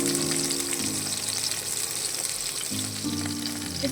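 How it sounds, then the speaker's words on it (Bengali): Fish sizzles steadily in hot oil in a pan for a Bengali bata fish curry, a continuous loud frying crackle with no talk. "এবার আমি মাছটা ভেজে নেব।"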